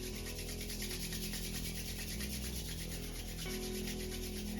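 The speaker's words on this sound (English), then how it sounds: "shaking out the hands, rubbing the hands together" Hands rub together in a steady, close, continuous swishing over a constant background hum, with no other sounds.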